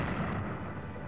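Gunfire sound effect in a TV commercial, a dense continuous rumble of booming shots blending into one roar, loud and steady throughout with no speech.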